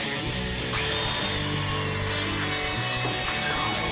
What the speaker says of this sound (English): So now I can go ahead and cut out the bottom shelves of my desk.